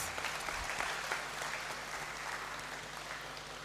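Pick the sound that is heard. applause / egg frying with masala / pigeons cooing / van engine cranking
applause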